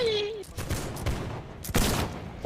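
A musket line volley crackles out in Holdfast: Nations at War, several bursts of massed gunfire rolling through in quick succession, near and loud, with a brief voice heard at the start.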